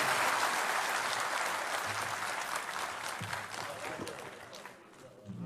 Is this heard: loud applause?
yes